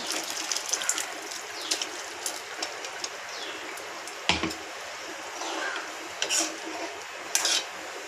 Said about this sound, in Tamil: இப்போ வந்து நம்ம அரைச்ச தேங்காய் பாலை வந்து ஊற்றிடலாம்